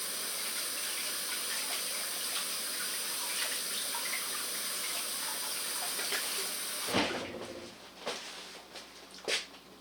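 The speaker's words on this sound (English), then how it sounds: "I'm gonna rewash my hands and try it again" Tap water runs steadily and fairly loudly for about seven seconds while hands are rewashed at a kitchen sink, then cuts off, leaving a few quieter splashes and drips.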